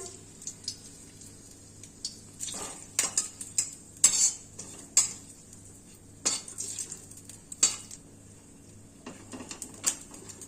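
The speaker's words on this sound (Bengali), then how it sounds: "শুকনো লঙ্কা একটা দিলাম তেলের মধ্যে, আর তেজপাতা দিয়ে দিলাম" Dried red chilli and bay leaf dropped into hot oil for a Bengali fish chachchari: soft sizzling under sharp metallic clinks and scrapes of a spatula against the pan, irregular and close.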